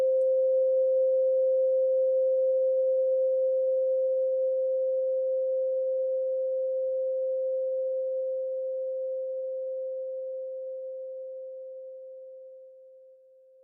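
Steady sine-wave test tone generated by a loudness meter plugin, a single pure mid-pitched hum holding constant for over ten seconds before slowly fading in level, heard alone.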